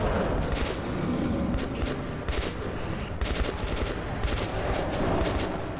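Gunfire in the video game Metro 2033: dense, continuous bursts of shots blend into a rough, steady roar across the whole stretch, loud and close, with no pauses between volleys.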